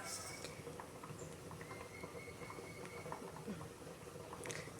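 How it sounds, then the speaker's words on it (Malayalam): Sambar bubbling in a pot on a stove, a steady low simmering patter running throughout at moderate level with no talk. "സാമ്പാർ തിളച്ചുകൊണ്ടിരിക്കുകയാണ്"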